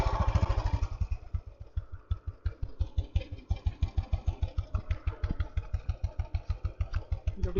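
A 2003 Royal Enfield Bullet, an ex-army vintage motorcycle, idles with its slow, even thumping beat, loud and close, the single-cylinder pulses steady throughout after kick-starting.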